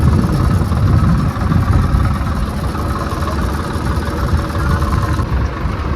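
A tractor engine runs steadily on the way to a roadside farm field, with a loud, continuous low rumble and idle-like drone throughout and no talking.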